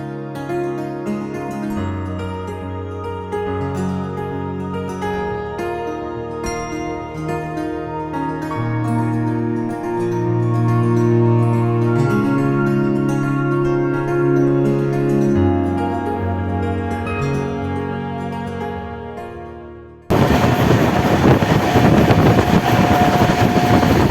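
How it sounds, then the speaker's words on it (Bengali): The Saraighat Express train running at high speed, a loud steady rumble with tonal hum and rhythmic clatter that shifts abruptly to a harsher, noisier roar near the end, heard close with no talk. "বাইরে এসে দেখি ট্রেন ছুটছে রকেটের বেগে"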